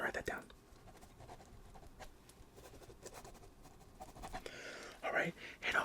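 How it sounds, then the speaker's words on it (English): Pen scratching across paper in a quiet room, soft intermittent strokes close to the microphone, growing louder and busier toward the end. "Let me go ahead and write that down."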